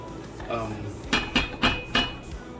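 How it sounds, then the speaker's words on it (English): A spoon stirs green onion tops into a Mediterranean seafood stew in a pot, scraping and knocking against the metal in about four sharp clinks near the end, with faint background sounds before them. "So I'm going to add the green onion tops and stir them in and cook just for an additional 3 minutes."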